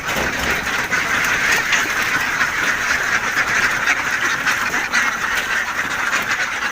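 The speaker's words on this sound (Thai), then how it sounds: "วันนี้เราไปปล่อยเป็ดกันเลยกันนะครับ" Egg-laying ducks from a rice-field flock of about 192 birds quack continuously in a dense, overlapping chorus as they are let out in the morning, close and loud with no pauses.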